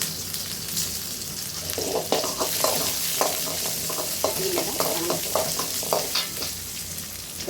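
Fenugreek seeds sizzling in hot oil in a pan, a continuous close fry with repeated scraping stir strokes throughout.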